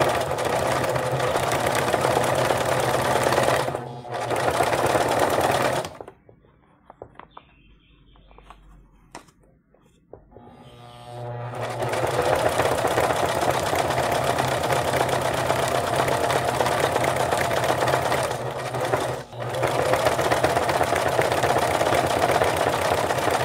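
Sewing machine stitching velcro onto towel beadwork, a loud, dense, steady whirring that runs for several seconds, pauses, then resumes for a long continuous stretch close by.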